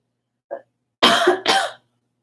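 A brief soft throat sound followed by two loud, harsh allergy coughs into a sleeve in quick succession, close by, with no talking.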